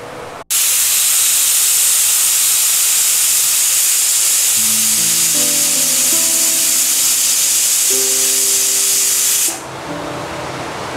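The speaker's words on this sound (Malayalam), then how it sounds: "നമ്മുടെ രണ്ടാമത്തെ വിസിലും വന്നിട്ടുണ്ട്." A pressure cooker cooking veg pulao lets out a loud, continuous hiss of escaping steam for about nine seconds, with faint whistling tones rising midway before it cuts off abruptly.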